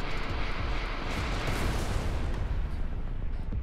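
Explosions rip through an outlaw base in the space shooter Everspace 2, a dense, continuous roaring wash of blasts and rumble that stays loud and steady throughout.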